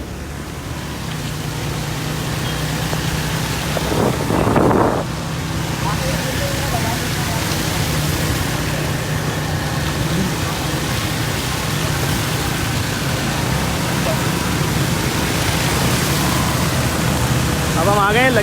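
Heavy monsoon rain pours on Karachi streets and roads as a constant loud wash of noise, with someone talking over it and a brief louder splash partway through.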